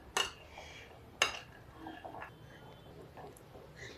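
Aloo chana chaat being mixed with cumin powder and chili powder in a dish, two sharp utensil clinks followed by softer scraping and stirring sounds, close and fairly quiet.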